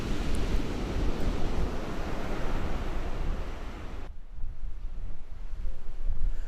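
Strong wind and rolling surf on a cold, blustery beach, a steady loud roar of waves and gusts that drops abruptly to a quieter wash near the end, with no voices.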